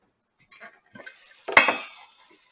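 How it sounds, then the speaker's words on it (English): Mongolian beef stir fry being stirred and folded in a pan, the beef patty kept on top, giving a few soft scrapes and then a louder clattering stir near the end. "I'm going to give the whole dinner a stir"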